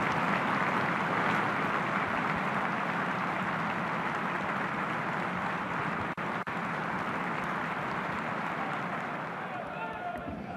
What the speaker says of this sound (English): We will start today's game with a minute of applause.